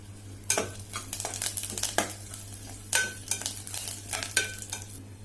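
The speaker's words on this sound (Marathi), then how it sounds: "कढीपत्ता घालून घेते लगेच." Curry leaves hit hot oil in a pan as a tempering for dal, giving a close, steady sizzle broken by repeated stirring scrapes, with no speech.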